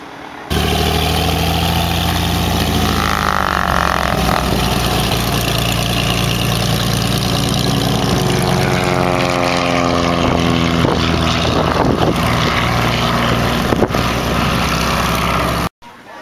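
A small propeller airplane idles at the end-of-summer fly-in at Sierra Sky Park, a steady, loud engine drone whose pitch wavers slightly throughout, then cuts off abruptly at the end.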